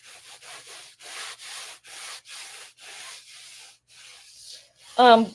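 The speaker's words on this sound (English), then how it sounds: "I'm just gonna buff this out a little bit more." Cold wax is buffed over an oil painting in about nine soft, rhythmic rubbing strokes, each a brief close swish, and a short sharp squeak comes at the end.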